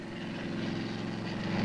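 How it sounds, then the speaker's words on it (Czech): A US Army helicopter lifting a 9-metre cross onto a church tower in Stuttgart, heard as a steady, droning rotor and engine rumble that holds at an even level throughout with no voices. "Vrtulník americké armády pomáhal při dopravě 9 metrů vysokého kríža na vežu jedného kostela"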